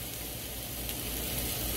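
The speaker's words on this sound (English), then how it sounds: "So you can hear that sizzle." Onions frying in a pan for a double sweet onion burger give off a steady, even sizzle that stays close and continuous with no talk over it.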